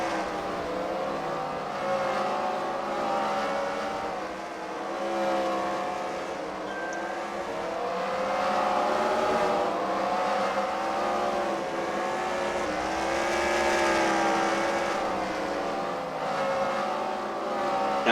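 Race cars in a car derby race roar continuously, engines droning and shifting in overlapping waves with a steady, dense loudness and no talk.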